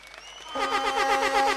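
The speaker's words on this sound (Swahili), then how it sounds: "Tumpigie makofi." Crowd applause at an outdoor political gathering in Kenya; clapping swells in after a brief quiet start and continues steadily, mixed with strong tonal music or voices.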